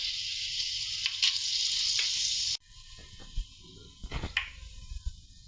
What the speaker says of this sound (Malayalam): കടുക് പൊട്ടി വന്നിട്ട് നമുക്കിതിലേക്ക് ഇനി ഉലുവ ഇട്ട് കൊടുക്കാവേ